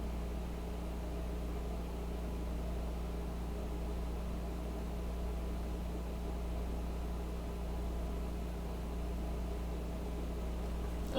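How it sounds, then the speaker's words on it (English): An air conditioner running in a hot room gives a steady, faint broadband hum and hiss with a low drone, unchanging throughout and with no voices over it. "Sorry about the background noise, it's AC."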